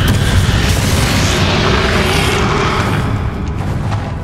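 Confringo fire spell from the video game Hogwarts Legacy: a loud, sustained booming blast that roars continuously and tapers slightly near the end, heard alone.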